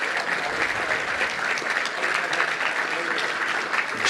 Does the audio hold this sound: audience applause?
yes